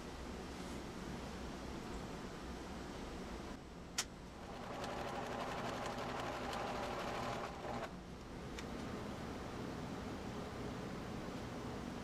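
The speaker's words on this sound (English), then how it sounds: "The trick is to sew a buttonhole on the back of the hat." A sewing machine stitches a buttonhole into the back of a hat, a quiet continuous mechanical whir that rises in the middle and then eases back.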